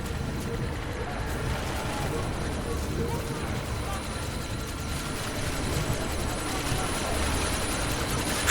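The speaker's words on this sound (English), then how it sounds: "you need to disable that chopper" A helicopter in the video game Deus Ex: Mankind Divided hovers nearby in a sandstorm, a steady dense rotor thrum and rumble filling the whole stretch, with speech occurring over it.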